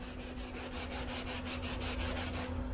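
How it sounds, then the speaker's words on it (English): Hand sanding of body filler on a Fox-body car panel with 120 grit sandpaper, feathering the edges, gives a steady rhythmic scratching of quick back-and-forth strokes, close and continuous with no talking. "while I have the 120 grit in my hand here is go ahead and just start feathering these edges"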